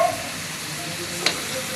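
A spoon stirs a brothy dish in a pan as it cooks down, with steady soft sizzling and scraping throughout and one brief louder clink near the end.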